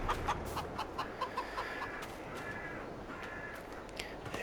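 Chickens in the Farming Simulator video game give a string of short, regular clucks and squawks over a soft steady background hiss, fairly quiet, with no speech.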